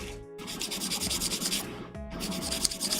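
Gunpla plastic model parts being sanded by hand, a steady rhythmic scrubbing rasp that runs close and continuous, with two brief pauses between strokes.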